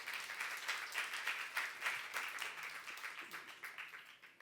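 Soft, distant applause from a Korean church youth service congregation, a faint rippling patter of many hands that continues steadily for several seconds.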